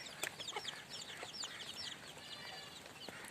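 Several chickens and chicks going after onions cluck and chirp softly nearby in quick, overlapping bursts over a faint outdoor background.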